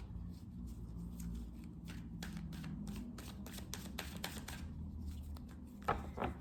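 Tarot cards being shuffled by hand: a steady dry riffling and sliding of cards with quick flicks and taps throughout, close and fairly soft, ending with a couple of firmer slaps as the deck settles.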